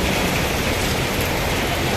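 Rain pours down steadily, a dense, loud hiss of drops with no breaks and no voices.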